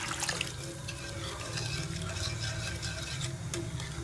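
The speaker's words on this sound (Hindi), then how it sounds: "अब ये हमारे पास आधा लीटर पानी है तो ये हम इसमें शामिल कर देंगे।" Half a litre of water poured into a cooking pot while making Pakistani chicken gushtaba, a steady close splashing and sloshing pour running for several seconds with no talk.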